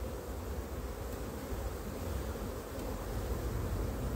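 Honey bees buzz around an open hive during an inspection, a continuous close, even hum with faint rustling and no speech heard.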